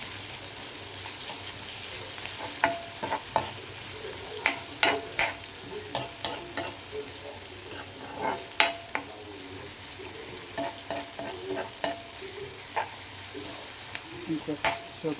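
A spoon stirs chicken frying in a pan for pepper chicken, making repeated scraping strokes over a constant close sizzle.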